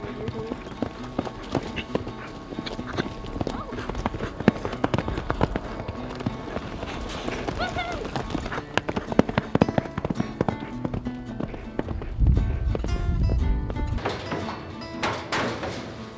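Horse hooves clip-clop in quick rhythm during a barrel racing run, with a heavier thudding burst near the end as the horse drives around a barrel; a voice talks over part of it.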